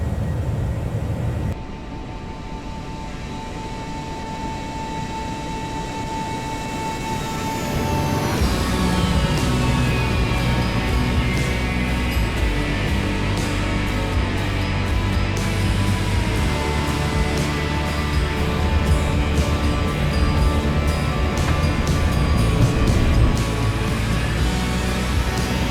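A Citation X business jet lands in Microsoft Flight Simulator 2024 with a steady turbine whine and roar that swells into louder, rumbling rolling noise after touchdown, continuous and close, with no talking.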